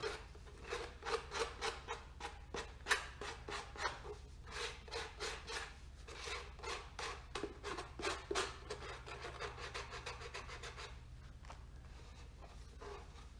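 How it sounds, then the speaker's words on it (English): Foam sanding block rubbed by hand over cut pieces of a model rocket booster, giving a steady run of quick rasping back-and-forth strokes, close and fairly quiet, with a brief pause near the end. "you might have to take a sanding block and clean up the pieces a little bit with your sanding block"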